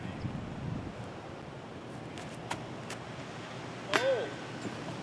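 Strong wind buffeting the microphone on a disc golf course, a constant rushing roar with a few faint metallic clinks and a brief knock.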